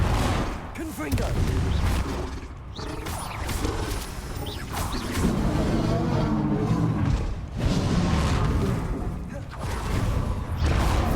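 Confringo fire spells burst repeatedly during a Hogwarts Legacy battle, a run of loud whooshing blasts and crashing explosions at irregular intervals, heavy and close, with combat clatter in between.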